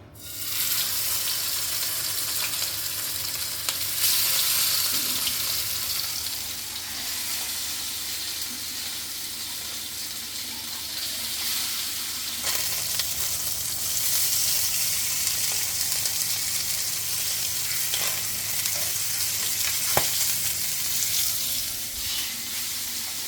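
Marinated katla fish fries in hot oil in a pan, a loud, sustained sizzle with crackling bursts that persists throughout, with occasional faint clinks and no voices.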